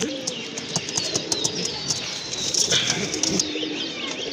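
A pair of racer pigeons coos in soft repeated calls with faint chirps, close by and with no talk over them.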